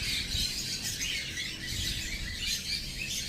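Cockatiels, including a cinnamon pearl cockatiel, chirping continuously in a steady, busy chorus of high calls, moderately close and fairly soft, with no voices.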